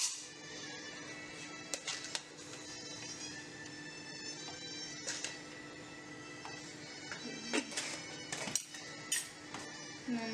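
Rice and vegetables for paneer fried rice being stirred in a cooking pot, with a metal spoon clinking and scraping against the sides in irregular bursts over a steady kitchen background, no talking.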